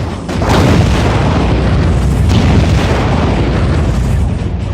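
A missile explosion in the underwater game AquaNox, a loud, deep rumbling boom that swells in quickly and sustains as a dense roar for several seconds without pause.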